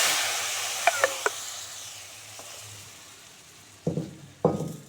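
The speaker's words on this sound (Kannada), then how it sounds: "ಈಗ ಒಗ್ಗರಣೆ ಎಲ್ಲ ಕರಿಯಲ್ಲಿ ಹಾಕಿದ್ದೀವಿ ನೋಡಿರಿ" Spice tempering for a homemade vegetable sambar gives a soft steady sizzle, with a few sharp pops early and two louder bursts of sizzling near the end as it hits the liquid.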